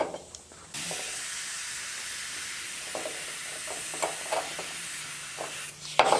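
Compressed air hisses steadily into an aerosol spray can through its valve, a continuous close, fairly loud rush that starts abruptly and runs unbroken for several seconds with small bumps and handling noises.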